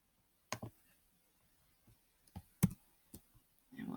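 Typing on a computer keyboard during a lecture, a few sparse, sharp clicks and taps spread out, quiet and close with no talking.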